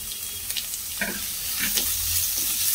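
Capsicum frying in a pan with onion while cabbage Manchurian is cooked, a steady broad sizzle with a few stirring scrapes and clinks, close and alone.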